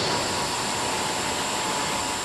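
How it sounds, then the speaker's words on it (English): A landfill methane gas generator turning gas into electricity gives off a steady, loud broadband roar with a constant engine hum. The sound is unbroken throughout, with no talking. "This is the sound of landfill odors, methane gas being converted into electricity"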